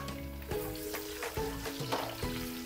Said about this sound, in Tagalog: After mag-fry guys, magigisa na tayo ng bawang.